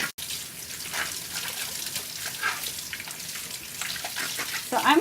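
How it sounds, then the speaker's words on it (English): Breast pump parts are rinsed under a running tap, a continuous splashing water stream with shifting gurgles and drips as the pieces are turned by hand, fairly close and moderate in level. "Let's give it a good rinse"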